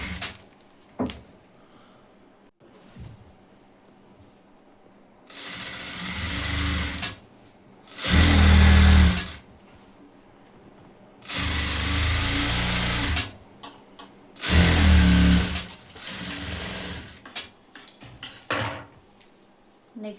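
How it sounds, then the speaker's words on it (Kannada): A sewing machine stitching the lining of a blouse sleeve runs in several loud, close bursts of rapid mechanical whirring, separated by quiet pauses with faint handling clicks. "ಲೈನಿಂಗ್ ಮೇಲೆ ಒಂದು ಸ್ಟಿಚ್ ಹಾಕ್ಬೇಕು"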